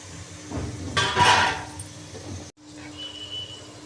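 Pieces of bottle gourd are tipped into a cooking pan, making a short clattering rush of chunks landing and scraping near the mic, followed by a brief quiet hum; no talk.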